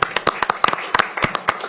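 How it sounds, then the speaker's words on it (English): Scattered applause from a small audience at a city council meeting, a couple dozen separate sharp claps spread unevenly across under two seconds, moderately close and with no one talking over it. "Let's give them a round of applause."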